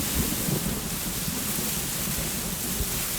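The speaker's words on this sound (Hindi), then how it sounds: "आज कितनी तेज बारिश हो रही है ना।" Heavy rain pours in a constant loud hiss, steady and close, with no voices over it.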